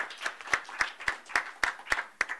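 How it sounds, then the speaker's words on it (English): Sparse, evenly spaced hand claps, about eight sharp strikes in a steady rhythm, from a small audience closing a ministerial dialogue event on investing in natural gas; moderately close and without talk over them. "Please join me in a round of applause."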